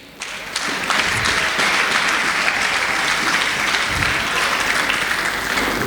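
A church congregation bursts into loud, sustained applause for a preacher, a thick roar of many clapping hands that starts suddenly and holds steady without talk.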